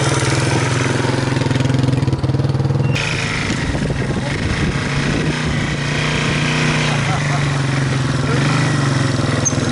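Yamaha 225DX three-wheeler ATV engine running steadily as it rides a trail, a loud continuous motor drone with rougher bursts of revving and terrain noise, the engine note shifting after the first few seconds.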